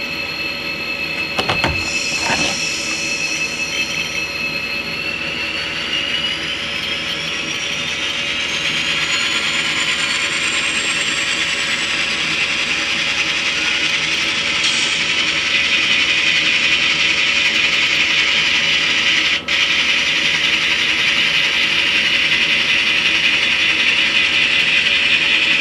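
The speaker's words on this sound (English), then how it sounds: "They got to move their locomotives." Heavy freight locomotives rumble and grind along the rails in a rail yard, with continuous mechanical clanking, a rising metallic squeal, and a steady engine drone throughout.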